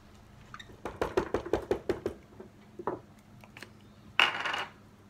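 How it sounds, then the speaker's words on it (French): A utensil stirs two eggs into chopped courgettes in a bowl, giving a quick run of sharp clinks and taps against the bowl, then a pause and a brief scraping rattle near the end. "Et je remue."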